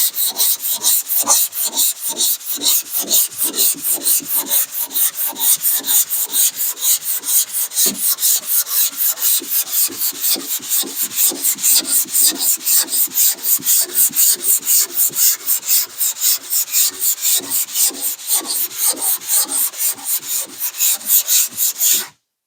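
Hand sanding of 2K automotive primer, a fast, steady back-and-forth rasping of abrasive paper rubbing over the surface, close and continuous with regular strokes and no talk.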